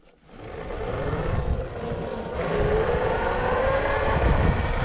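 A Honda CRF-E2 electric dirt bike surges forward as the throttle is cracked open, its motor whine rising in pitch and loudness with wind and tire noise, building steadily over several seconds.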